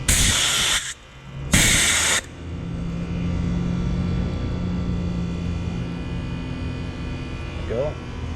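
Refrigerant gas blasts from a Schrader valve on a Carrier mini split during compressor replacement: two loud, sharp hissing bursts of about a second and half a second, then a steady low hum of equipment.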